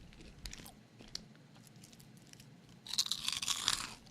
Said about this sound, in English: Pork rinds? Is that what this is? What are you eating?